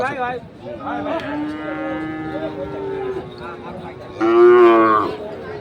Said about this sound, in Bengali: আমরা দেখবো আরও কিছু গরু আছে